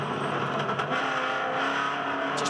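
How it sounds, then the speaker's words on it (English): V8 ute race car at the Clipsal 500 street circuit, its engine held hard against the rev limiter, a loud buzzing, stuttering roar that bounces rapidly at a fixed high pitch throughout, with distorted broadcast character. "Hear that engine bouncing up the rev limit."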